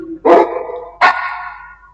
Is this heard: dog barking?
yes